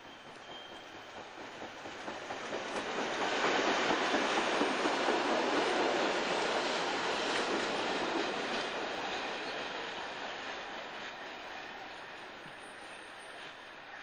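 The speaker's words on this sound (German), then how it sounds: "ist das ein Schnellzug Richtung Tschechei" An express train bound for the Czech border passes Miltach station in Bavaria on a dark evening in 1991. Its rolling rumble and wheel clatter swell over a few seconds, hold loud, then slowly fade away.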